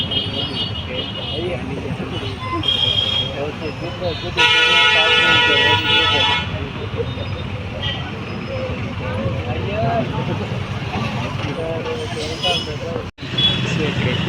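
Busy city traffic around Hitech City in Hyderabad, a constant roadway rumble with a long car horn blast near the middle and other honks, while people talk throughout.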